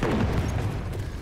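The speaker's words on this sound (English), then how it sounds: "Oh my god, that's explosions for days." Deep, rumbling explosion blasts in the video game Battlefield 1, a dense continuous roar of booms with no pause across the short stretch, loud and close.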